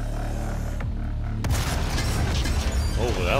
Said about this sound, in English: Oh, that was a lot of explosion.